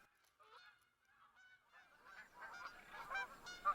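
Flock of geese honking overhead during a Yukon hunt, faint scattered calls at first, then a denser chorus of honks building toward the end, distant and outdoors with no talking.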